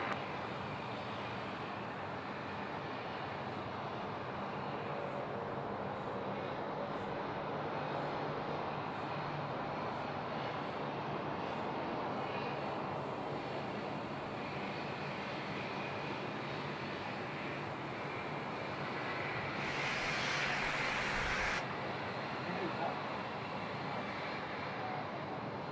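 Aircraft engine noise from a Qantas airliner rolling down the runway at Sydney Airport, a broad steady roar held throughout, rising slightly and briefly brighter near the end, with no talk over it.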